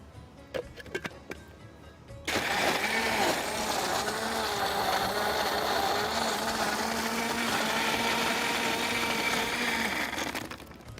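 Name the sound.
blender blending apple juice, mint, lemon juice and ice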